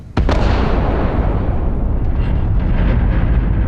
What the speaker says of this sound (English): The hell was that random explosion, dude?